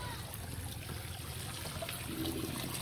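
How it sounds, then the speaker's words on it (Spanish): Water trickles at the Virgen del Chorrito shrine, a faint, steady wash of dribbling flow with no talk over it. "Estamos teniendo agüita aquí."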